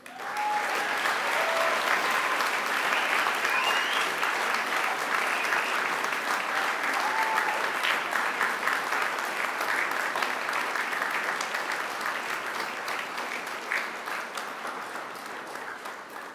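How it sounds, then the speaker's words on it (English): Graduates at a Macquarie University graduation ceremony applaud their families and friends, a dense, sustained crowd clapping that holds steady for the full stretch before easing slightly at the end. "And now I invite you to give them a mighty round of applause."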